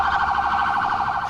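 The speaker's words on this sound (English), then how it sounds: "With lights flashing and sirens sounding, we fight our way through the congested streets of Bangkok." An emergency vehicle siren wails through congested Bangkok streets, loud and close, with a rapid oscillating warble held steadily throughout.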